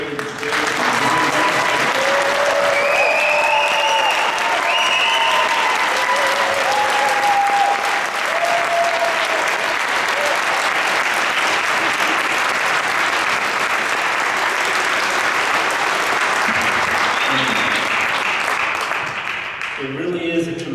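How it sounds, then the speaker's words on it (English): Sustained applause at a junior honor society ceremony for 8th and 6th grade students, a loud crowd clapping continuously for about twenty seconds with a few faint voices and tones over it before it cuts off. "Please join me in a round of applause for both our 8th grade and 6th grade."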